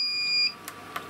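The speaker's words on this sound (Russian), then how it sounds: "Автоматика подает нам сигнал, чтобы мы закрывали кран" Electronic beeps from the automation of an autoclave sterilising marinated tomatoes with bell peppers, signalling that the purge has finished: a steady tone that stops, then two short faint clicks or blips.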